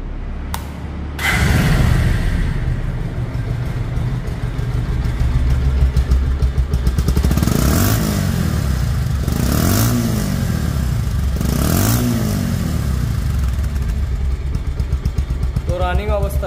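A 2024 Bajaj Pulsar double-disc ABS motorcycle in showroom condition runs loudly and steadily close by, its engine rising in three or four repeated revs over a constant idle rumble.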